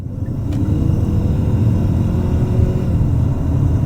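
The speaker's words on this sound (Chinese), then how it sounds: "所以当我们来到 Sport Mode 的时候，我们打完 Signal 踩油" A 2023 Chery Tiggo 8 Pro 2.0T pulls away hard in Sport Mode, its engine and road rumble steady, loud and close from inside the cabin.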